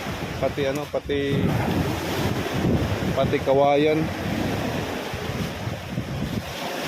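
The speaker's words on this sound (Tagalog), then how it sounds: "Grabe sa lakas ng alon" Strong sea waves surge and crash on a shore during heavy rain, with gusting wind buffeting the microphone in a constant roar. Someone talks over the noise at moments.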